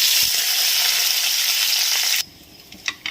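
Dry red chillies and green chillies hit hot oil with tempering spices, giving a loud, steady sizzle for about two seconds before it drops off abruptly to a quieter crackle.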